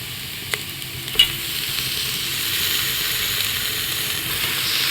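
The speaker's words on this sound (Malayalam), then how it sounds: "ചെറിയ തീ കിടന്ന് നന്നായിട്ട് ഈ പച്ചമണം മാറുന്ന വരെ എല്ലാം ഒന്ന് നന്നായിട്ട് കിടന്ന് വഴലണം" Masala sautéing on a low flame in a pan, a continuous soft hiss with a couple of sharp clicks early on, close and steady with no voices.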